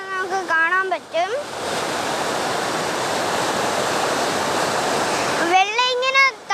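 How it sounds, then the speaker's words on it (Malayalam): Kattara waterfall pouring and splashing down onto rocks, a loud, steady broadband roar that holds for several seconds, with a person talking briefly just before and after it. "വെള്ളം ഇങ്ങനെ താഴോട്ട് പോകുമ്പോൾ തെറിച്ച് പോകും."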